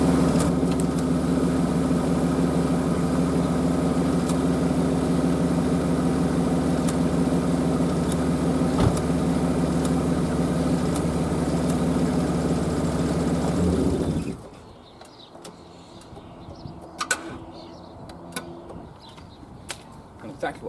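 A V6 Citroen Xantia engine runs loud and steady under throttle with a constant low drone, then cuts off abruptly, leaving quiet with scattered clicks and knocks.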